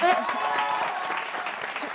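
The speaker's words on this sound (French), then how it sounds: "Bien sûr, on vous applaudit, on vous raccompagne." Applause from a live audience at a French semifinal show, a steady wash of clapping throughout with voices mixed in under it, fairly loud and close.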